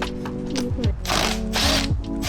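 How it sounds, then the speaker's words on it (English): A ratchet with a 13mm socket backs out the thermostat housing bolts on a 2011–2021 Dodge Durango 5.7L V8 HEMI, making rapid close clicking bursts that alternate with short loud pauses and sweeps, unaccompanied by talk. "now we got a 13mm. We're going to take those bolts off"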